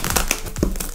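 Cardboard packaging around a PNY GTX 1060 graphics card cut open with a small knife, close crinkling and tearing scrapes in quick bursts.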